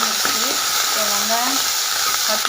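Mustard seeds and fennel seeds crackle and sizzle in hot oil for sambar tempering, a steady frying hiss with a voice speaking over it.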